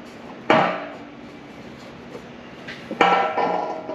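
Exhaust hangers are worked off a Dodge Durango with two sharp metallic clanks, each followed by a brief scraping rattle, close by with quiet gaps between them and no talking.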